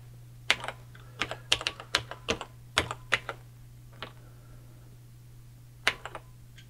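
Keys clacking on a vintage portable computer keyboard as a short starter program is entered, irregular bursts of crisp taps with pauses between, close and clear over a faint steady hum.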